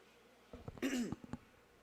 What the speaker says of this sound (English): Sorry about that, little cough.